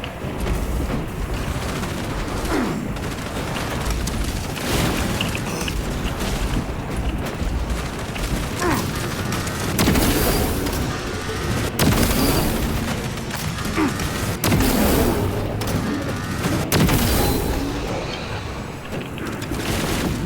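Continuous heavy gunfire and booming explosions fill the scene in Warhammer 40K Space Marines 2, a dense, loud barrage of rapid shots and deep blasts with no letup.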